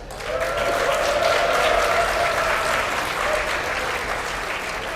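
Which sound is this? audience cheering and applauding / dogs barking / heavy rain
audience cheering and applauding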